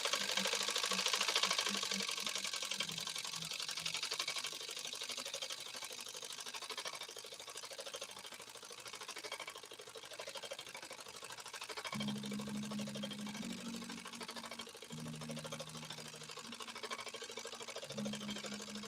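PFAFF 130-6 sewing machine with an embroidery kit stitching embroidery, a fairly quiet continuous mechanical whirr with a fast stitching rhythm and a shifting hum.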